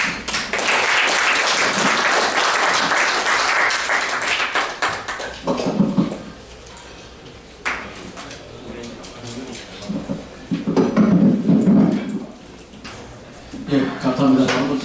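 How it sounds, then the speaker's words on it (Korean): An audience at a university energy-policy lecture gives a big round of applause as a professor comes up to speak. Dense clapping fills the first several seconds, then fades and a voice takes over, with a few scattered claps later. "우리 황승균 교수님 나오실 때 큰 박수 마련해주시기 바랍니다"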